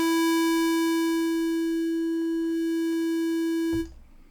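A loud, steady synth tone is saturated toward a buzzy square-wave sound, rich in overtones. It holds unchanged for almost four seconds, then cuts off abruptly.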